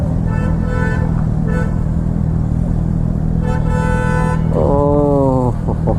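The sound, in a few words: loud motorcycle passing in night traffic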